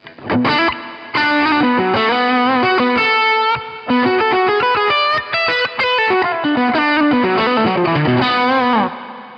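Lead lines on an electric guitar played through a Boss Katana digital amp, driven and slightly distorted with generous reverb tails, fast melodic phrases ringing out loud and alone with no voice.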